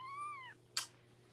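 A house cat gives one clear, close meow, rising then falling, followed by a short sharp burst of noise and then near quiet.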